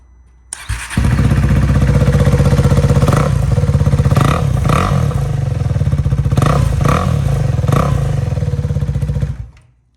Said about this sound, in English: we're gonna get it started up so you guys can hear what that sounds like